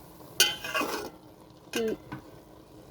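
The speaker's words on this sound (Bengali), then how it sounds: "চালটা ঠিকঠাক সিদ্ধ হওয়ার জন্য একটু নাড়াচাড়া করে দিচ্ছে" A spoon stirs rice in a pot of sweet pulao, giving two short scraping, clattering bursts separated by a pause. The sound is close and moderately loud, with no talking.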